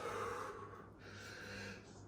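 Heavy, steady breathing follows a bodyweight strength workout, a continuous close rush of air in and out that runs alone without a break.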